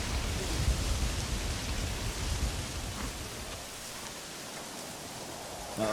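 Steady rain in the video game Red Dead Redemption, a dark, rainy night in the game world, heard as an even wash of falling water that eases slightly toward the end, with no speech.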